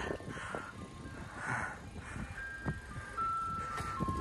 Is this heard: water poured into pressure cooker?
no